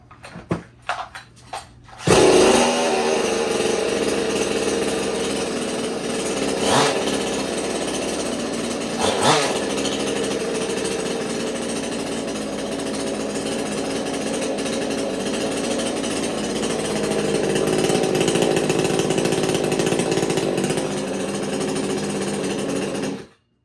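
A small 62cc two-stroke chainsaw engine with a dual-ported muffler sputters through a few quick pulls, catches, then runs at a loud, steady rattling idle with brief revs, close up.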